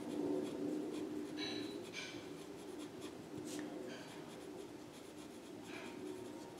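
A pen scratching across paper while a statistics answer is written out, a steady close scratching with short strokes and brief pauses, over constant low room noise with no talking.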